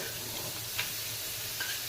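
Oil heating in a kadai for Indian misal pav, giving a soft, steady sizzle that runs throughout with a couple of faint clinks, close by and fairly quiet.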